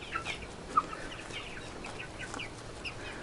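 Soft, scattered chirps and clucks from young chickens about two months old, faint and a little distant, with one brief sharper peep standing out.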